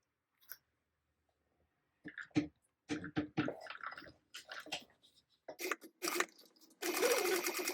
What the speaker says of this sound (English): So I am gonna back stitch, so I'm gonna start kind of at the bottom back spot.